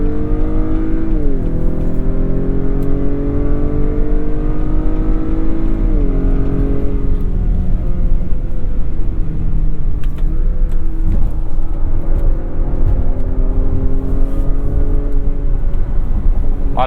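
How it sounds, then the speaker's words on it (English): Synthetic engine sound piped into the cabin of a 2022 Acura RDX as it accelerates, with a loud droning tone that climbs in pitch and drops back at each gear change, several times in a row, with no talk. "A lot of fake engine noise coming through there."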